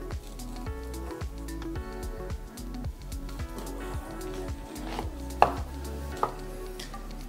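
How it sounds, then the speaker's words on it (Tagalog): A knife chops two kilos of beef into large chunks for caldereta on a cutting board, a run of close, regular thuds and knocks with a couple of sharper louder strikes near the end, no talking. "pag nagkakat ako ng pang kaldereta, medyo malalaking hiwa yung ginagawa ko"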